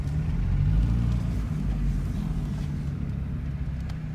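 An MK3 Jetta engine fitted with a new aftermarket air intake runs with a steady, loud low rumble that swells slightly early on and then holds an even drone with no talking.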